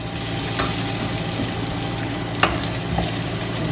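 Ginger sautés in a pan for ginataang lobster, a continuous close sizzle with occasional scraping stir clicks, no talking.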